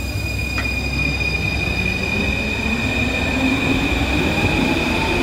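A metro train rumbles steadily through a station, with a continuous hum and a high, sustained wheel squeal above the rolling noise.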